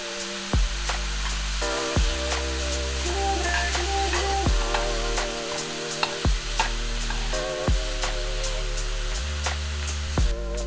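Diced spring onions are stirred into a mushroom mixture seasoned with black pepper in a hot pan. A steady close sizzle is punctuated by regular scraping strokes of a spoon, with soft tonal music underneath.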